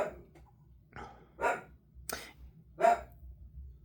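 A dog barks a few times at moderate distance, sharp separate woofs spaced over a few seconds against a quiet low hum.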